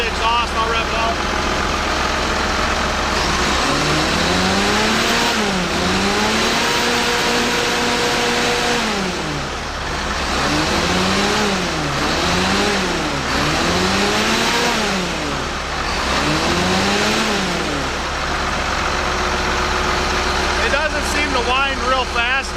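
A Cummins 8.3 diesel engine with a freshly worked injection pump idles, then revs up and down several times in repeated rising and falling surges over a steady low rumble. A person talks at points.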